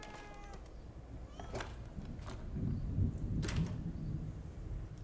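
A kitten meows in the horror game The Evil Within 2, with a few short, faint high cries among low ambient game rumble and scattered clicks, no talking.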